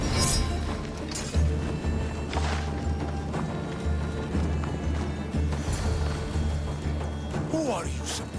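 Horses galloping in Assassin's Creed Odyssey, a steady stream of hoofbeats carried under a constant game music bed and background din, with occasional shouts and crashes rising over the rumble.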